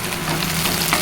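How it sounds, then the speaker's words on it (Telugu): Green chillies tossed into onions frying in a pan give a steady, loud broadband sizzle that holds throughout, close and continuous with no voices. "ఇప్పుడు ఒక 3 పచ్చిమిర్చి కట్ చేసుకున్నాను, వేస్తున్నానండి."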